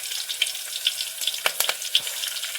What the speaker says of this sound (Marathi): कांदा टाकायचो थोडा भाजून दे